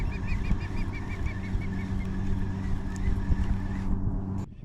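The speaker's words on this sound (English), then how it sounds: "Why are these birds so loud?" Loud birds call near a kayak on the water during bass fishing, giving a run of repeated honking cries over a steady outdoor rumble. The sound cuts off abruptly at the end.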